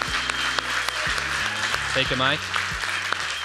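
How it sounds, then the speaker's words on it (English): A room at a startup incubation demo day applauds a pitch, with steady clapping under music with bass notes while a nearby voice speaks briefly. "big applause to Lussy"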